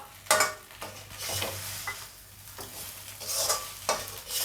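Podi idli being stirred with ghee in a hot pan, irregular spoon scrapes and tosses over a steady low sizzle, close and clear, no voice.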